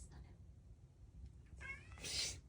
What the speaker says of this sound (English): My cat wants some attention, as you can see.